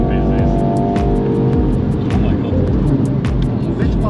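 Race car lapping the Nürburgring Nordschleife with its engine droning loud and steady throughout, low rumble with shifting tones, a few sharp clicks, and voices talking inside the cabin over the noise.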